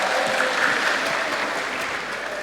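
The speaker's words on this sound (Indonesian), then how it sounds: "Tepuk tangan dong." A crowd claps steadily throughout, a dense, close wash of applause that holds at the same level from start to finish.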